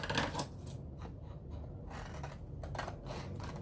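Scissors cutting out a paper shamrock shape, several crisp snipping strokes, close and fairly quiet, with no talking.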